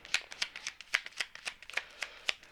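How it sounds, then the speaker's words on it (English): Tarot cards shuffled and drawn from a deck, a quick series of crisp papery riffles and slaps in an uneven rhythm, close and clear with no talking. "We're diving in with 3 cards from here, then 3 supporting cards from the other deck."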